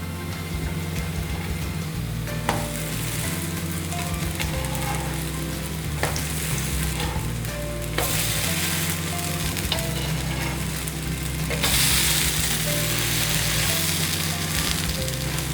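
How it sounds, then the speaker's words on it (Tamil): Rava uttapam toasts on a pan over a medium flame, giving a loud, steady sizzle that swells and fades in places, with occasional light scraping sounds and no voices. "நல்ல மீடியம் ஃப்ளேம்லேயே டோஸ்ட் பண்ணலாம்."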